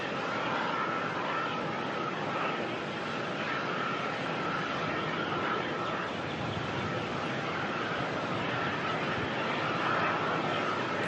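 A Qantas airliner departing Melbourne Airport gives off a steady, broad engine roar, moderately distant and unbroken for the whole stretch, with no voices over it.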